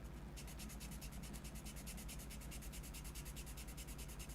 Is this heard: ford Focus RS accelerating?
no